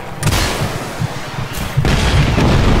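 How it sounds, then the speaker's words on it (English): Explosions tear through a mech battle in Just Cause 3, two heavy booming blasts with rumbling, crackling tails that stay loud and close throughout. "Some explosion."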